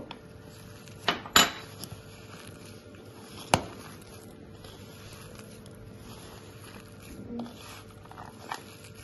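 Kofta mince and egg are mixed in a bowl, with a few sharp clinks of a utensil against the bowl and soft squishing between them, faint and close.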